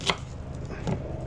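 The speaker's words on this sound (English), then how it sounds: "Rough chop, don't need to be pretty." A knife rough-chops carrots on a board while a curry is being prepared, giving a couple of crisp, close blade strikes about a second apart with a quiet kitchen behind.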